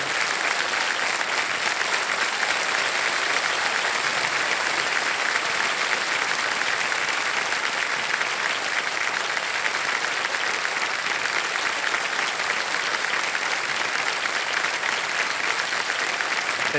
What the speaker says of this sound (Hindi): तालियां बजते रहे नाना जी के लिए